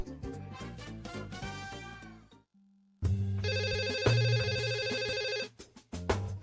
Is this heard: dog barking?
no